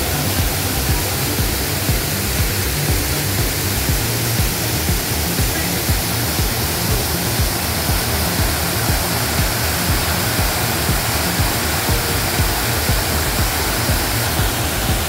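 Lambingan Falls in Jabonga, Agusan del Norte, roars as a steady, loud, broadband rush of falling water, unbroken and even throughout with no voices over it.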